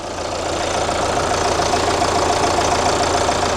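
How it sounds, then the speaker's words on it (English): A Tata Safari's Cryotech 170 diesel engine, rated at 168 horsepower, idles close by in a steady, loud, even drone with a low mechanical rumble and no voices. "This is the Cryotech 170 engine, which produces 168 horsepower, and it is a diesel engine, and you can hear it and see it's vibrating."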